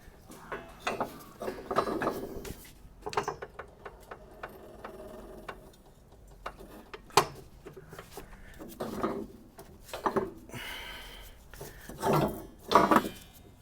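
A wrench working on the lower control arm bolts of a Jeep XJ during a long arm kit install, giving repeated metallic ratcheting clicks and clunks in irregular bursts with short pauses, close by and with no talk.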